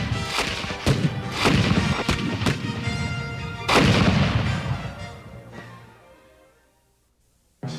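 Cannon artillery fire in a massed bombardment near Yorktown, several heavy booms in quick succession, close and loud, then fading into a long rumbling decay before quiet.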